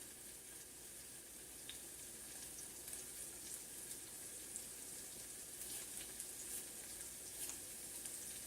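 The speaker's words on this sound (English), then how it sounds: "Already sizzling." Chopped garden vegetables frying in a pan, a faint, steady crackling sizzle with scattered small pops and no voices.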